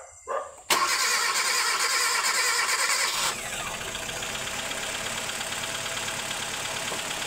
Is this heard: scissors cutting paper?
no